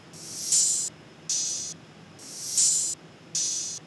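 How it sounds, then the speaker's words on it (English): A reversed open hi-hat swells up and cuts off abruptly, leading into open hi-hats, in a programmed trap beat. Four airy, hissing bursts alternate, each rising then ending sharply, over a quiet background. "So I took an open hat and reversed it."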